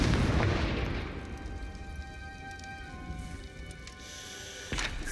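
A Confringo explosive spell from the Hogwarts Legacy video game bursts loudly at the start and fades into a crackling rumble, followed by a sharper second blast near the end.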